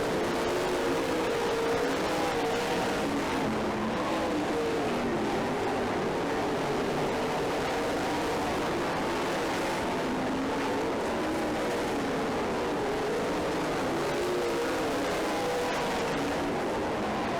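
Race cars roaring steadily around a short track in a pack with lapped traffic, a continuous dense engine drone with shifting tones and no clear gaps, fairly loud throughout.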